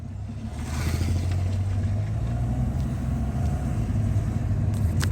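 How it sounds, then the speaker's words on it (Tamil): An automatic-transmission car on a test drive while checking a stuck gear shift, its engine a low steady hum and drone that swells slightly as it pulls away, close and continuous with no talking. "அகைன் நான் டி மோடில் போட்டு வண்டியை டெஸ்ட் ட்ரைவ் பண்ணுறேன்."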